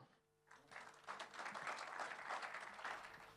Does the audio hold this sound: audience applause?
yes